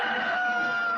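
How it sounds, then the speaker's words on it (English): Rooster crowing as a sound effect, a single sustained bright call held steadily throughout, moderately loud and close with no talk over it. "The rooster who brings the news"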